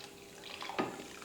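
A short splash of cooking water poured into a pot, brief and close, over a quiet background.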